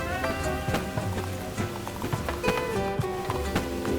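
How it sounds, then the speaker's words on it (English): Rain falls steadily in Minecraft on an island, a constant dense patter with scattered sharper drops, heard alone over a soft musical background. "This rain is a nuisance"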